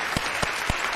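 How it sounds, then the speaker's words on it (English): A small group claps in a television news studio, giving a few loose, separate hand claps in quick succession close to the microphone, with no talk over them. "Clap your hands for Sean Connery in the studio."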